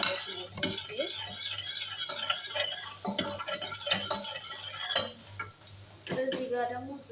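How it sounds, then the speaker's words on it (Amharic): Garlic is added to a hot frying pan and stirred, producing a soft sizzle beneath repeated close scraping and clinking of a utensil against the pan in irregular strokes. "አሁን የምጨምረው ነጭ ሽንኩርት ይሆንልኛል እና ነጭ ሽንኩርት እዚህ ጋር እጨምረዋለሁ ማለት ነው።"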